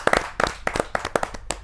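Brief, sparse handclaps from a small audience welcoming a poet at a Hindi kavi sammelan, a few sharp, close claps in an uneven patter.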